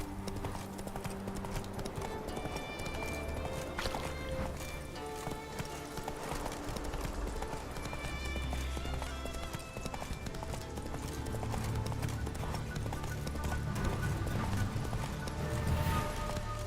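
Roach, a horse in The Witcher 3 video game, gallops with steady rapid clip-clop hoofbeats throughout, layered with game music and ambience and an occasional neigh.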